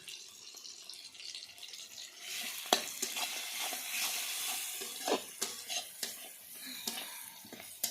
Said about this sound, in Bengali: আমার মশলাটা ভাজা হয়ে গেল।